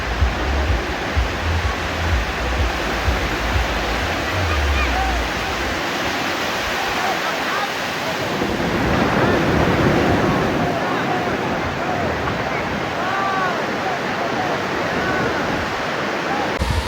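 Ocean waves break and wash along a beach on Lombok during a surf lesson, a steady broadband roar of surf that swells louder midway through.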